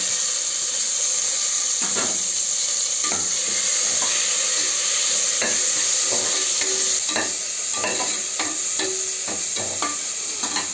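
Onion and tomato sautéing in a hot pan with spices and curry leaves for a banana stem soup, a constant bright sizzle with repeated scraping stir strokes, close and steady without talk.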